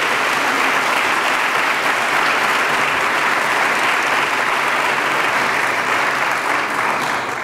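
Loud, sustained applause from a forum audience welcoming the Reverend Al Sharpton before he takes the stage, a full, even roar of many hands clapping without a break from start to finish.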